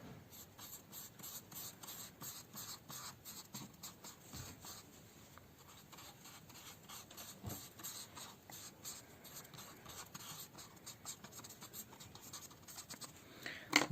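Pen sketching a diagram of the eye's corneal layers on paper, a continuous close scratching and scribbling with rapid strokes, faint and steady throughout with no voices.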